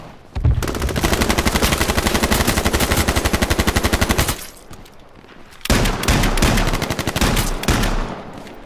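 Rapid automatic gunfire in the video game H1Z1, loud sustained bursts of machine-gun shots with a short pause between two long volleys, no talk over it.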